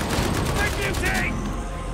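A sniper rifle shot in the video game Darktide, part of dense, loud gunfire bursts, with several blasts packed together that cut off abruptly after about a second, and a voice speaking over the action.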